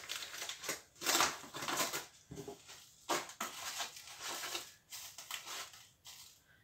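Coarse rock salt is spooned out by the tablespoon while seasoning pork fat rolls, giving several short bursts of gritty, crunchy rattling separated by brief pauses, close and fairly quiet.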